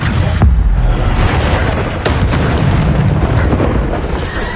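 Repeated Bombarda spell blasts from Hogwarts Legacy battle gameplay on PS5: booming, broadband explosive bursts arriving every second or so over a dense, continuous roar of combat noise.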